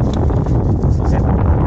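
Wind blows outdoors at a baitcaster casting practice spot, a steady rough buffeting rush across the microphone for the whole short stretch.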